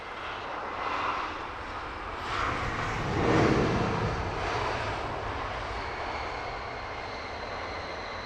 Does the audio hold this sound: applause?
no